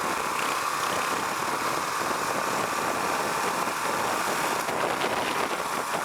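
A Husqvarna Vitpilen 701 motorcycle engine runs steadily, a continuous even drone under wind rush at a moderate, unchanging level, with no talk.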